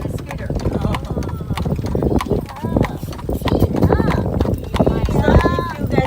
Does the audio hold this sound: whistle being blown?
no